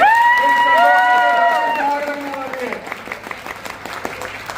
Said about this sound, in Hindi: उसके लिए जो तालियां वो जबरदस्त होनी चाहिए